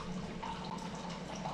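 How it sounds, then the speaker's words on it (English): Hot water runs steadily from a kettle or tap while 6 ounces are brewed in a home kitchen, a continuous close splashing pour with no pauses and no talking. "I'm brewing hot water this morning"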